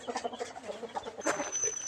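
Chickens roaming the grounds of Wat Pong Chai, a Thai temple, give soft, scattered clucks close by among leaf litter, with faint outdoor background.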